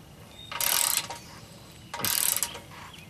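Ratcheting wrench tightening thread-locked lower bolts on a Smittybilt SRC Classic steel front bumper on a 2004 Jeep TJ, two separate bursts of rapid clicking, close and fairly loud, with a pause between.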